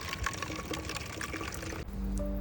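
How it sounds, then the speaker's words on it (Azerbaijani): Natural spring drinking water in a Swiss mountain village near Grindelwald, flowing and splashing continuously up close, with a brief change in the stream near the end. "İçməli təbii bulaq suyu."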